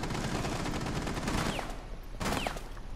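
Gunfire in Rainbow Six Siege: steady, rapid shots rattle through most of the stretch, ease briefly, then return in a renewed burst, with scattered casings and impacts audible over the din.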